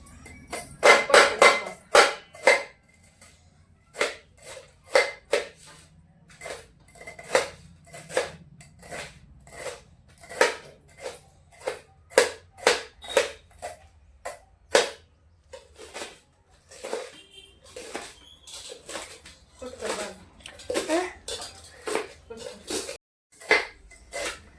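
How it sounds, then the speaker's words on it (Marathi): Cabbage chopped with the edge of a glass for cabbage bhaji, giving a long run of sharp, close chopping knocks in quick irregular bursts with short pauses, loud at first and then steady. "मी आपला ग्लासने कट करत असते."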